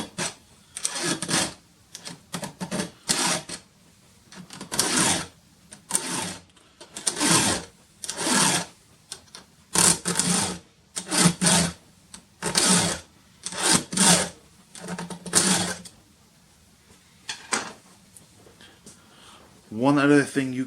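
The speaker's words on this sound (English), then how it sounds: "we're going to take our file and start filing" A hand file rasps over a chainsaw chain in a run of separate short strokes, each about a second long with brief pauses between them, close and clear, with someone talking in the gaps.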